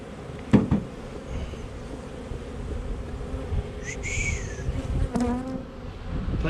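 Honey bees buzz steadily around an open beehive in North Queensland, Australia, a dense close hum with individual bees whining past at moments and a couple of faint knocks.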